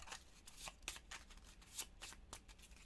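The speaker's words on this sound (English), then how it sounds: "Okay, so that's all shuffled up again." A deck of board game cards is shuffled by hand up close, a quiet series of quick riffles and soft slaps with an uneven rhythm, heard alone.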